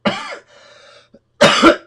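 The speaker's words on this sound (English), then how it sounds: "I'm still coughing." Two bursts of harsh coughing, close and loud, separated by a short pause with a faint hum in between.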